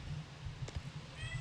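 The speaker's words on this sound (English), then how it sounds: "My cat has picked the wrong time to look for attention." A pet cat meows for attention indoors, a faint, short meow or two in the background against a low steady hum.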